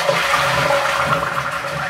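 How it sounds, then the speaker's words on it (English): A household toilet flushes close by, a loud steady rush of water swirling down the bowl with a gurgling undertone, continuous for the whole short stretch with no voices. "It makes a funny gurgling noise."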